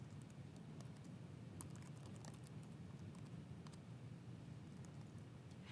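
Steady, fairly soft typing on a computer keyboard, a continuous patter of close key clicks with a few sharper taps standing out, no voices.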